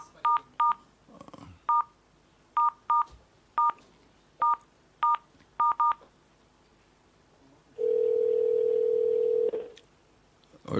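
A telephone keypad is dialed during a radio call-in show, with about a dozen crisp tone beeps in irregular groups, followed by a steady two-second dial tone, all clear and close with no talk over it.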